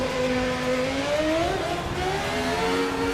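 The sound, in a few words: McLaren MP4 race car engine revving in video game Assetto Corsa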